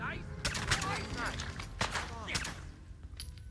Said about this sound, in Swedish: Vad fan var det där för jävla skott?